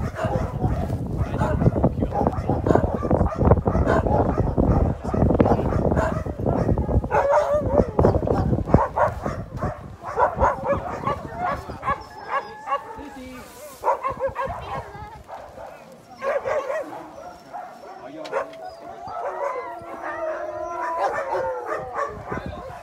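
Sled dogs at a snow-mountain kennel barking, yipping and howling in a wolf-like chorus, loud and continuous, with people talking over the racket.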